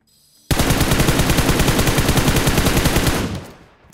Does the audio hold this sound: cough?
no